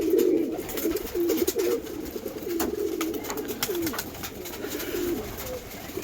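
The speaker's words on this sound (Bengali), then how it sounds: "এই একটা আমার ফেভারিট নর মাদ্রাজি, পুরানো পায়রা" Madrasi pigeons, including an old male, coo steadily and repeatedly close by during bathing time under a cloudy sky, a continuous low throaty burbling with a few sharp knocks and clatters over it.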